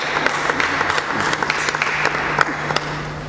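Singers on a French-language television set clap and cheer as an apostle makes his entrance, with steady applause and sharp individual claps above a faint low hum.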